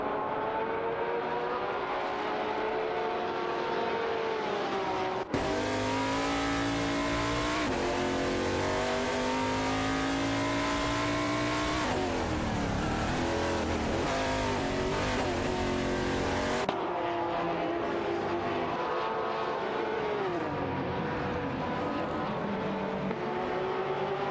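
Race cars lapping a racetrack in an AI racing series, loud engines revving and shifting pitch as they pass, with occasional tire noise, continuous and close throughout.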